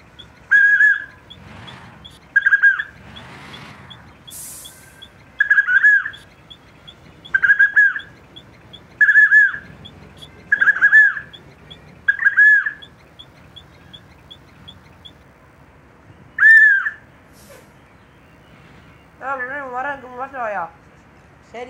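A bus conductor's whistle signals reversing in a TNSTC deluxe bus driving game: about eight short, shrill blasts at an even pace, followed by a warbling trill, with quieter sounds underneath.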